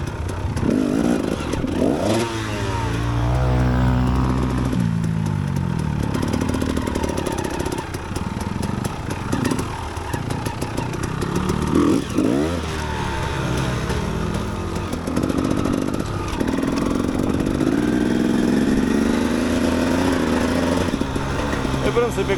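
A KTM EXC 250 dirt bike engine is ridden, its droning motor rising and falling with revving and gear changes, steady and close, while someone talks over it.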